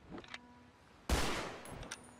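A single loud burst of gunfire, close by, that cuts in suddenly after a quiet moment and fades with a rough tail, with a few faint sounds before it.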